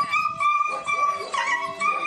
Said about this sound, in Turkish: Bir sokak köpeği tenteye takıldı. Acı çığlıklarıyla bölgedekileri ayağa kaldırdı.